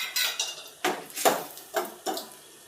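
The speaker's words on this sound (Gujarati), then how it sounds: "સરસ રીતે મિક્સ કરી લઈશું." A metal spoon stirs turmeric and salt into onion, tomato and garlic in a cooking pan, giving five or six distinct scraping clinks at a steady, unhurried rhythm, close and fairly loud with no talking.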